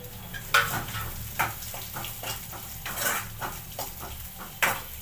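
Dried red chilies and softened onions sizzling in a pan, with a steady fry under repeated sharp scrapes and clinks of a spoon stirring against the pot.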